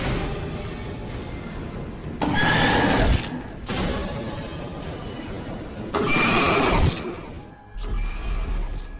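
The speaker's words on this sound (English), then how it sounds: "this is actually the exact same noise Huggy Wuggy makes when he jump scares us" A shrill, screeching cry from the monster Kissy Missy in the video game Poppy Playtime Chapter 3 bursts out twice in loud surges, each a few seconds long, over a rumbling, noisy background.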